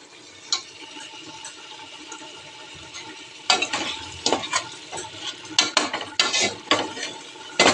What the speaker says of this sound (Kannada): ಮತ್ತೆ ಸ್ವಲ್ಪ ಅರಿಶ್ಣ ಹಾಕ್ಬಿಟ್ಟು ಫ್ರೈ ಮಾಡ್ಕೊಬೇಕು